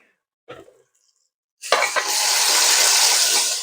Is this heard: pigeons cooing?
no